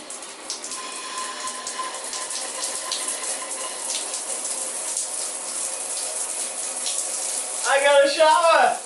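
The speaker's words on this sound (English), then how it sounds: "I got a shower!" A shower running steadily in a newly built tiny house wetroom, a constant close hiss of spraying water throughout, with a brief excited voice near the end.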